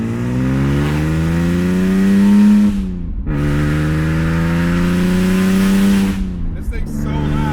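An ESS twin-screw supercharged BMW E46 330i engine revs hard and close up in two long pulls, each cut short by a brief drop during a gear change, its loud droning tone rising steadily.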